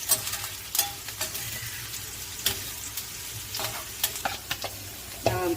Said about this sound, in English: onions. Fry for about 2 minutes